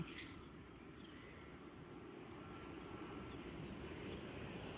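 A steady, low engine roar of an IndiGo airliner passing overhead, holding at an even level throughout with no voices.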